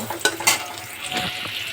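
Onions frying in a pan for a bottle gourd greens dish, a steady sizzle with a couple of sharp scraping stirs near the start, close and moderately loud.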